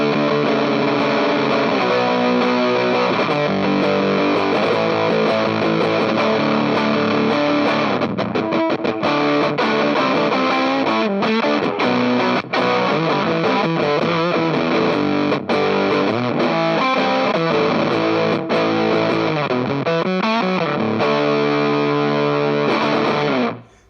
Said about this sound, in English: as you can hear, it is a really versatile fuzz with a whole range of options to it